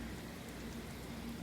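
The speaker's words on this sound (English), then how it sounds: "It is very loud raining, like a flood, foggy outside." Heavy rain pours outside during a storm, a faint, even broadband hiss of falling water with no distinct drops or talk over the short stretch.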